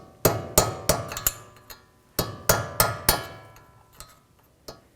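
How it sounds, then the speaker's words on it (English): Sharp metallic taps of a chisel against a C-clip on the front lower ball joint of a 2011-2014 Chrysler 200, two quick bursts of four to five close, ringing strikes followed by a couple of softer isolated taps. "I'm just going to take a chisel and just try to rotate this a little bit"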